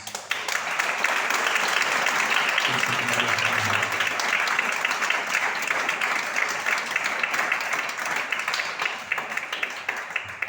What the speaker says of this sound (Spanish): ¿Qué le parece si le damos un fuerte aplauso al Rey de Reyes?